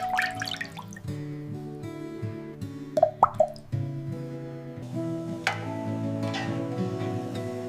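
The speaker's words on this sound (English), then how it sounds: "Gently adding 6 fresh eggs." Fresh eggs drop one after another into a pot of water, a few soft wet plops and splashes, the clearest cluster in the middle, over gentle background music.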